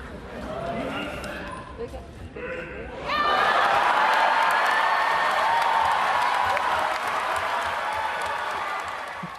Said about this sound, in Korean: 이를 본 관객들의 박수와 환호가 쏟아집니다